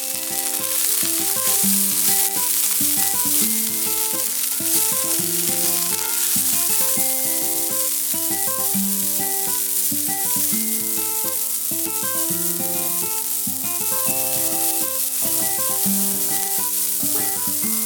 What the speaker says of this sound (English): we're going to let these sear, give them an occasional stir until they get nice and browned